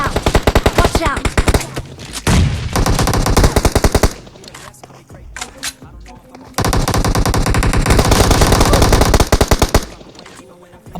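Gunfire in a PUBG battle: dense, loud automatic bursts of rapid shots, a long stretch, a pause with scattered shots and sounds, then another sustained burst.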